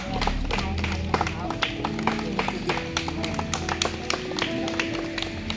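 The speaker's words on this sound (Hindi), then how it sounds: "तो एक बार जोरदार ताली बड़ी दीदी के लिए" Audience at a medical camp in a remote Naxal-affected area clapping loudly for a guest, a sustained burst of many hands applauding with sharp irregular claps and some voices mixed in.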